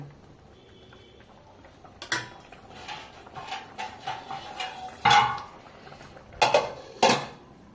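A spoon stirs soaked raisins in a covered pan for a chal potol dish, making a run of light metallic taps and scrapes that begins after a quiet start, with a few sharper clinks of the lid being handled.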